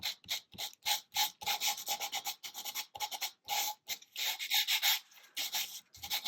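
Sandpaper scrubs the bottom edge of a handmade mixed media card in quick rhythmic strokes, a close dry rasping repeated in short bursts with brief pauses between.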